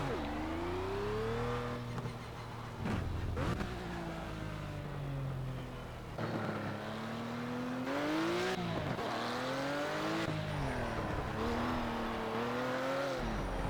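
Ruf RT 12 R engine revving hard with tire squeal during burnouts in the racing game Project CARS, steady loud engine tone rising and falling across the whole stretch with no talk.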